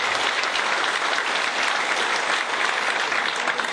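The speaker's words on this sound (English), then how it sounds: "we wish to, of course, applaud our speakers" Audience at a public dialogue forum applauding the speakers: steady, dense clapping from a sizeable crowd, loud and continuous for the whole few seconds with no talk over it.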